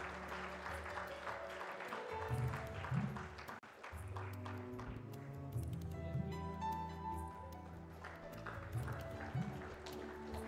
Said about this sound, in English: please put a very big round of applause for Shri Maharaj Singh